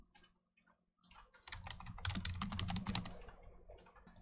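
Fingers type rapidly on a computer keyboard while entering HTML code, a close, quiet burst of dense key clicks after a few scattered taps, with no voices.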